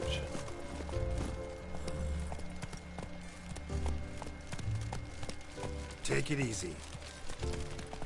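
The horse Roach galloping in The Witcher 3, with steady rhythmic hoofbeats and a brief whinny, heard close under spoken dialogue and game ambience.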